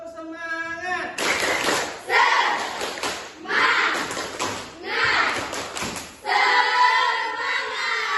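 Children in an Islamic school classroom perform a rhythmic clapping routine, patterned bursts of claps and chanted voices in sets, loud and close, with a teacher's voice around them.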